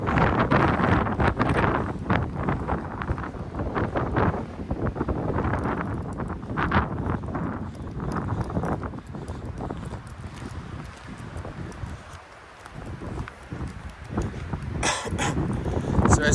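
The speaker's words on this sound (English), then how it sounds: "it's blowing me about up here now" Strong wind buffets a microphone up on an exposed viewing platform, a loud, continuous roaring rush with gusty swells that ease briefly before building again, and no one speaking.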